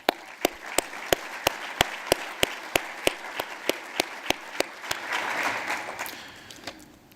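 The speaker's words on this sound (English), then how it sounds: "Let's give them a round of applause." Applause from an audience honouring sponsors at a downtown Boise business event, heard as sharp, evenly spaced claps standing out over a broader wash of clapping that swells near the end, then fades.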